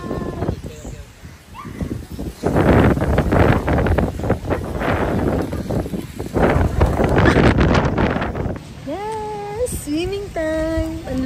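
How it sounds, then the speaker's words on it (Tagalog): Strong wind buffets the microphone beside a hotel pool in rough, loud gusts. Voices of an adult and someone talk over it, with a few sung or drawn-out vocal tones near the end. "Ang lakas ng hangin!"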